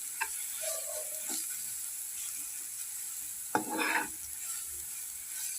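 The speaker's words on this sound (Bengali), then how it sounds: "এখন এটা আমি একটু ভাজা ভাজা করে নেবো রসুনটাকে লাল লাল করে নেব" Soft, steady sizzling of garlic frying in a pan runs throughout, with a few scraping stirs and clinks of a utensil against the pan.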